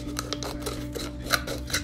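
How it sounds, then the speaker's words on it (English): Scissors snip around the first ridge of a plastic water bottle, giving a quick series of close, crisp clicks and crunches over a low steady hum. "I'm going to cut around that first ridge of the bottle."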